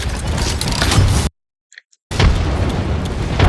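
Grenade explosions in the video game Deadlock come as loud, dense booming bursts that fill the clip, broken by a sudden stretch of near silence in the middle before the blasts resume.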